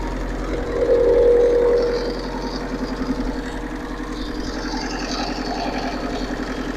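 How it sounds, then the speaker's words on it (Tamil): A Tata Sumo Grande engine idles steadily up close with a low, even rumble; the sound swells briefly near the start, then settles into a constant running hum. "இன்ஜின் சவுண்டை கேளுங்க."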